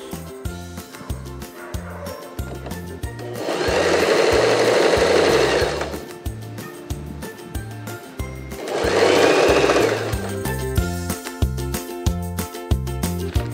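A sewing machine stitches a blouse collar in two sustained motor bursts of steady whirring, separated by quieter pauses with small clicks and handling sounds, close up and without speech.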